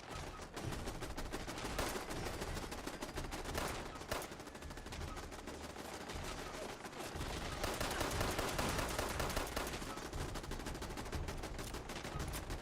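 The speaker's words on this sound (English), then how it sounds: "Look at the heavy machine gun fire." Heavy machine gun fire rattles nonstop in a video game, dense rapid bursts layered together for the whole stretch, loud and close with barely any pause.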